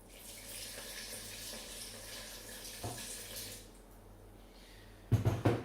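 Water pours from a tap into a bowl for sourdough, a steady faint splashing rush that cuts off, followed by a few light clunks of handling.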